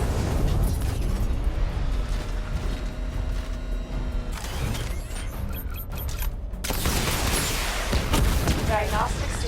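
A missile barrage in Batman: Arkham Knight sets off dense, continuous rumbling blasts with mechanical creaks over a thick game soundtrack, loud and sustained, and a synthetic voice speaks briefly over the din.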